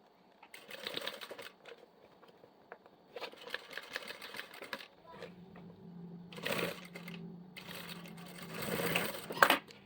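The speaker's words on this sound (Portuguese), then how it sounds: "Costura um pouquinho, para, costura um pouquinho, vai puxando." A sewing machine stitches fabric for a necessaire (zip cosmetic pouch) in short start-stop bursts, each run of rapid mechanical needle chatter pausing before the next, with louder, longer runs toward the end.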